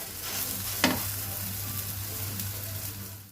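A mixed dal chilla fries in a pan with a steady broadband sizzle, briefly sharpened by one scrape or stir near the start, then holding an even, continuous crackle at close range with no voices.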